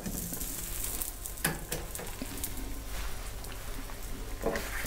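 Red mullet fillets frying in a pan give a steady, close sizzle throughout, with a few brief clinks and a soft scrape of handling partway through and no talking.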